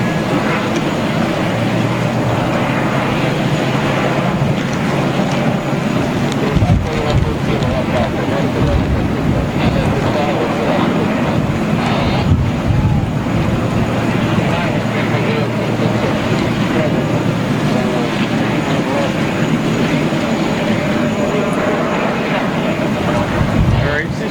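A jet airliner on its departure roll down runway 31 Left at New York JFK airport makes a steady, distant low roar that rumbles continuously, mixed with wind buffeting on the microphone.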